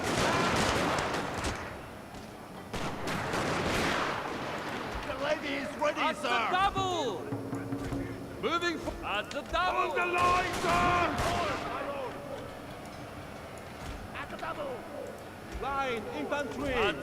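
Musket volleys from infantry kneeling in ranks in Total War: Shogun 2, Fall of the Samurai, pop in scattered bursts under a steady battle din while someone talks over most of it.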